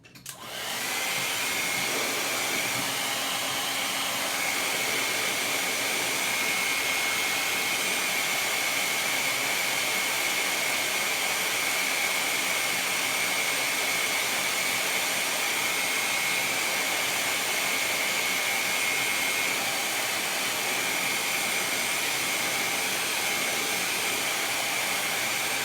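A hair dryer blows air over a chalk paste craft project, a loud, steady whooshing hum that starts abruptly and runs unbroken for the whole stretch, with no voices.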